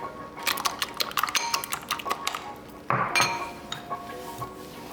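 Whisk clinking against a bowl while mixing icing of egg whites, lemon juice and confectioner's sugar, a quick run of sharp metallic taps, a pause, then more clinks.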